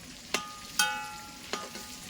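Chicken in masala fries in a pan after being turned over: a low background sizzle broken by three or four sharp, ringing metallic clinks of a utensil against the pan.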